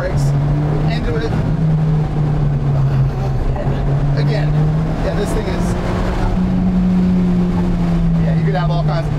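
A 2016 Alfa Romeo 4C Spyder's engine drones steadily as the car brakes into turns and slides back out, its pitch rising gently. People talk over it throughout.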